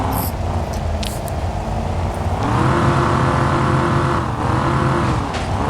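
A car engine revs in the Car Simulator 2 video game, a loud continuous drone whose pitch climbs, dips and climbs again as the throttle is held, close and without pause.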